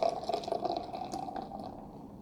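Berliner Weisse beer poured into an oversized tulip glass: a steady, close liquid pour with a faint fizzing rush that gradually eases off over about two seconds.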